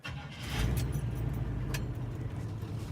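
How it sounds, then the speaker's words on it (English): A 1977 Chevy mini monster truck engine catches and settles into a steady, rumbling idle close by, with no talking. "Start it up."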